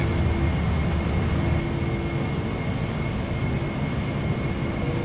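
A Boeing 747-400 taking off in a flight simulator game, a loud, steady roar of jet engines with a constant tonal whine running through the whole stretch.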